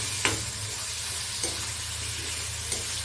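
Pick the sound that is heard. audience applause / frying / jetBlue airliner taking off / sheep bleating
frying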